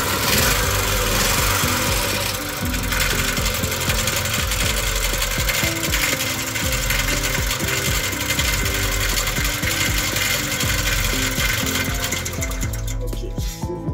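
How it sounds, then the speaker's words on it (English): A small generator engine with a faulty governor spring, causing low speed and low voltage, runs with a loud, steady mechanical drone and a constant rattling hum that barely varies. "I did put on the generator and straight away I understood where the fault was from."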